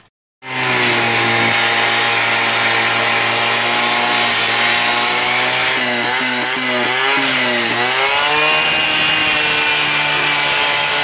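Angle grinder cutting through welded metal, a loud continuous whining buzz that bends in pitch as the disc bites and eases off, running steadily for about ten seconds after a sudden start, with no talking.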